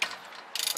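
A hand ratchet clicks in two quick bursts with a pause between them while loosening wheel hardware during a wheel spacer install, close and fairly quiet.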